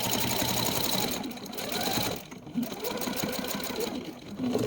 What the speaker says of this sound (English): And now I'm going to sew down to the next one.